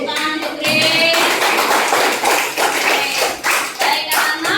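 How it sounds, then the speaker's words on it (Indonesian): Classroom clapping for a student named Grace, a burst of hands slapping together that starts right after a teacher's voice and continues for a few seconds, close and lively. "Ya, tepuk tangan untuk Grace."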